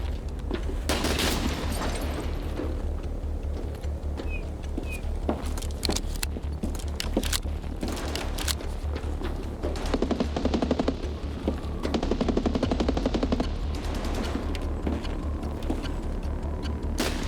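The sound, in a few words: gunshots in the video game Escape from Tarkov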